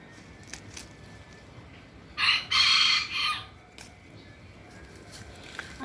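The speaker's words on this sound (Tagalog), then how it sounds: "Ang cute naman ng tunog ng manok." A rooster crows once, loud and close, among chickens kept inside an abandoned property, the harsh two-part call standing out over quiet ambience with a few faint taps and rustles around it.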